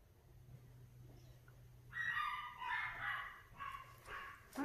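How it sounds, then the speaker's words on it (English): A dog barks in a short run of sharp, fairly near yaps that start partway through and repeat irregularly over a low steady hum, with no one talking. "One of those dogs always choose to bark when I start talking."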